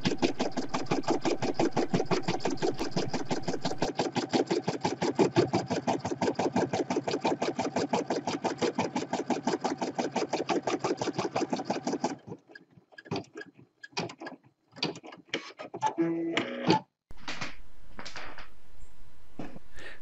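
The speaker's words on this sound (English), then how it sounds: "So this is just a simple running stitch." Embroidery machine stitching a simple running-stitch placement guide in matching thread, a fast steady mechanical needle rhythm running loud and even for about twelve seconds, then stopping into scattered clicks and thumps of the machine.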